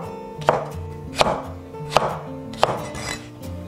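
A knife slices through fresh okra on a cutting board, four distinct sharp chops at a steady, unhurried pace, close and clear with faint kitchen clatter between them.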